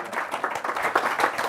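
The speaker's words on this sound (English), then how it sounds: "A round of applause for MEP Tridico." A small audience at a tax policy report launch gives a short round of applause, brisk uneven clapping of moderate loudness with no talk over it.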